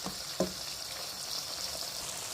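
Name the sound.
spice masala frying in oil for Chicken Changezi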